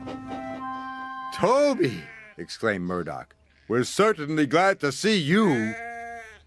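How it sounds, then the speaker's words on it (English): Several sheep bleat loudly in wavering cries, overlapping one another, while someone speaks between the calls, in a Trainz train-simulator scene. "The sheep were becoming noisier and noisier."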